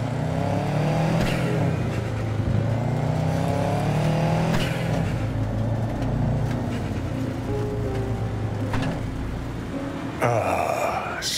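A car drives in the video game Cyberpunk 2077, its engine droning steadily with a few revving swells and dull thumps over constant road rumble, close and continuous.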